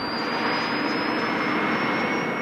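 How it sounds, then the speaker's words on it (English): A helicopter serving as an airborne camera platform on a film location shoot for A View to a Kill gives a continuous, loud, dense engine and rotor roar, steady with no speech. "The helicopter is being used as a camera platform, and therefore it won't be visible in the picture"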